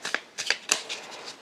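Tarot cards are shuffled and handled close up, giving a run of crisp papery flicks and snaps at an uneven rhythm.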